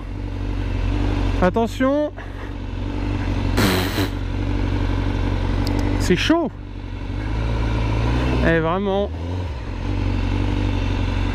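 A 2020 Honda CBR1000RR-R SP of 217 hp idling in a traffic jam, its steady low engine hum continuing throughout beneath someone talking over it.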